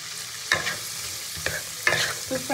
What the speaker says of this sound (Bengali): তো এবার বিনসটা ভাজতে ভাজতে এর মধ্যে আমি গাজরগুলোও দিয়ে দেবো।